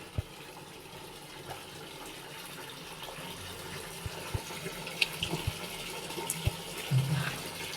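Water is poured and splashed during a bath on a hot day, with faint, intermittent splashes and drips over a steady low wash of running water and no talk.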